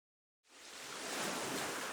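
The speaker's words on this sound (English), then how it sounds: "you can hear the sound of the waves" Ocean waves in a video game, silence and then a soft surf wash that fades in and swells into a steady, broad hiss of breaking water, faint and distant.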